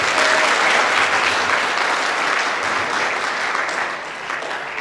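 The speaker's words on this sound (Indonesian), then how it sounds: "Ya, tepuk tangan untuk Abah Sumarti." Audience applause at an entrepreneur talk show welcoming a guest speaker, a dense, sustained crowd clapping that holds steady for nearly five seconds before easing slightly at the end.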